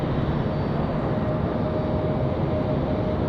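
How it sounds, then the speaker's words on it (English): JetBlue Airbus A320-200 airliner coming in to land at a windy airport, a steady loud broadband engine roar and wind rush with a faint whine running throughout. "We've got JetBlue 726 and A320-200 coming in that new livery, coming in from Fort Lauderdale"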